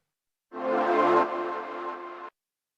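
Distorted synth pad fill preset with chorus and delay for a melodic house track, a single bright, dense swell holding for under two seconds, slightly louder at first and then easing before stopping cleanly, with no voices over it.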